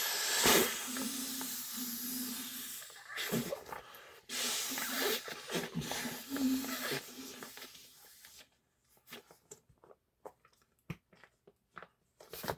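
Puffs of breath are blown into a Klymit inflatable tube light through its nozzle, giving close, breathy hissing gusts. These are followed by quiet clicks and handling noises.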